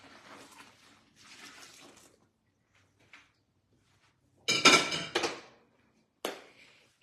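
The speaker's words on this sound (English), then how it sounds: "So I'll just pour the rest in here that I have." Water poured into an indoor plant container, a bright splashing burst about midway that stops, then a shorter second pour, with faint quieter stretches before it.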